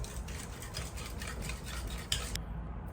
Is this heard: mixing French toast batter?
yes